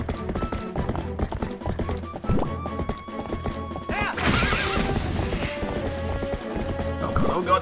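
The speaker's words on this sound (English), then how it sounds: "Leave my horse alone!" A horse gallops in Zelda Twilight Princess HD, rhythmic clip-clop hoofbeats under game music, with a whinny and a crashing burst partway through.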